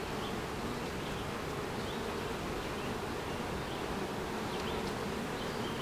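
Honeybees swarm around a hive frame packed with pollen, nectar and brood. Their dense, steady buzz holds from start to finish with no voices.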